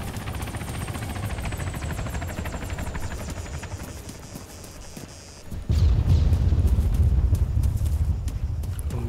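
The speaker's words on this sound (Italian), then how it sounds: "Un elicottero. Dov'è l'elicottero?" Steady thudding rotor chop of a helicopter in the military game Arma 3, close and continuous, growing louder and heavier partway through as the engine roar swells.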